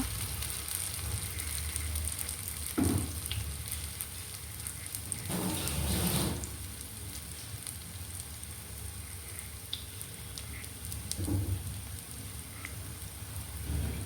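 Banana peel fritters frying in oil produce a soft, steady crackling hiss, fairly faint and rain-like, with a few brief louder bursts of bubbling.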